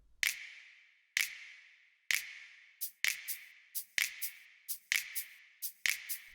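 Snap and shaker samples from a deep house intro, crisp snaps landing on a steady beat with quicker shaker ticks filling between them, dry and up front, no voices.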